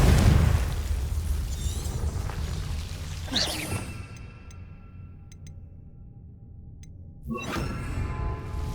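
Confringo fire spell blasts in the Hogwarts Legacy video game: a booming burst with crackling rush fades into a quiet stretch of faint ticks, then another whooshing blast rises at the end.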